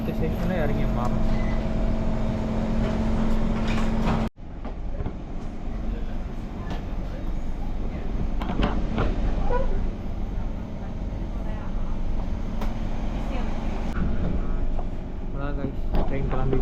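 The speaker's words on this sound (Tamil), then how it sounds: "ட்ரெயின் கிளம்பிடுச்சு." A Singapore metro train pulls away from the station, a loud steady rumble and rolling rail roar that holds close throughout, with a sharp break early on and people talking faintly beneath.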